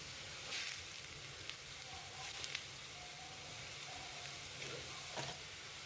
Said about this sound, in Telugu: అవి కూడా యాడ్ చేసుకుని మనము వేయించుకోవాలి